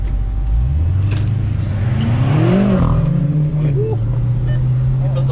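A Dodge Durango SRT Hellcat accelerates hard in the rain, its engine roaring loudly with a rising then settling pitch, heard from close by as talk carries on over it.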